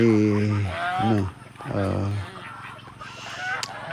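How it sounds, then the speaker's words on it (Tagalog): Geese and turkeys on a farm call out in a few loud, harmonic honks and gobbling bursts close by, separated by short pauses, with quieter fowl noises trailing after. "saka yung ating goose at turkey"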